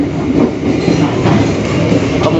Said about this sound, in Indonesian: ini kereta api Cikuray akan berhenti kembali di stasiun Karawang